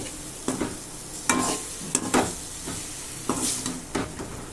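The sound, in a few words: stirring capsicum gravy masala in a pan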